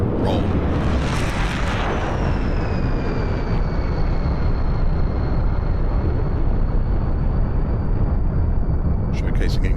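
A MiG-21 jet at an airshow, heard as a loud, continuous broadband roar from a single pass with a whine that slowly falls in pitch as the jet flies a four-point hesitation roll.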